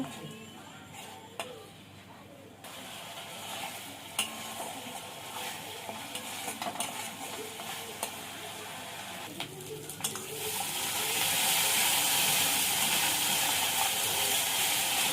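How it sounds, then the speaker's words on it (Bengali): Tomato paste and spices sautéed for rohu fish kalia: a faint sizzle with sharp stirring scrapes that turns into a louder, fuller hiss toward the end. "টমেটো বাটাটা ভালো করে মশলার সঙ্গে কষিয়ে নেব।"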